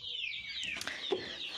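A broody hen clucks in a short burst of close calls with a faint rooster-like cry, the farmyard otherwise fairly quiet.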